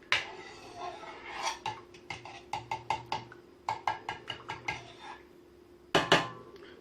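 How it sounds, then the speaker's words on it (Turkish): A spoon stirs a yogurt mixture in a metal pot for making labneh, clinking and scraping against the sides in a quick, irregular series of sharp taps at close range. Near the end come a couple of louder knocks. "Güzelce karıştırıyorum."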